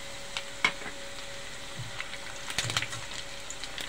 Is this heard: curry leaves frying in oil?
yes